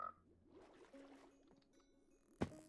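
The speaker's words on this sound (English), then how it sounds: "Yes, I am smacking frogs." Frog croaks from a Hypixel Skyblock Minecraft game, a few short low croaks over quiet ambience, then one sharp, loud burst near the end.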